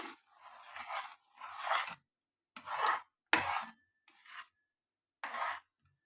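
Nuts are stirred into beetroot halwa in a pan, giving about six separate close scraping strokes of a spoon. Short silences fall between the strokes.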